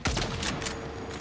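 Rapid burst of gunfire in the Saints Row video game, dense overlapping shots filling the short moment at close range, loud and unbroken.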